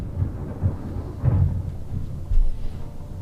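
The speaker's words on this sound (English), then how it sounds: "that was very loud thunder" Loud thunder during a storm: deep rumbling rolls with a sharp crack around the middle and another surge near the end, steady low rumble throughout, no voices.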